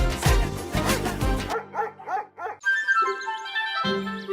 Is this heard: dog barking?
yes